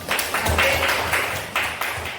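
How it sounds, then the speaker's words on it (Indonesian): A class of schoolchildren breaks into applause, a short bout of uneven clapping in surges that rises and falls over about two seconds, with faint voices in the room. "Ya, tepuk tangan untuk kita semua."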